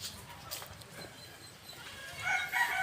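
Native chickens on a small farm, with light clucking calls over faint outdoor background and a few higher bird sounds toward the end.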